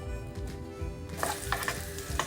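Loud sizzling from a stir-fry of noodles with chicken and prawn in a pan, with scraping and tossing clatters getting busier in the second half.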